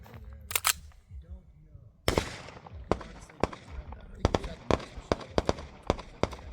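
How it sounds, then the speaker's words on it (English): SIG P211 pistol firing S&B 115 grain ammunition: a string of sharp, loud gunshots at an uneven, fairly quick pace, with a couple of earlier shots before the main string, fired close by outdoors. "Right now I'm shooting S&B 115s."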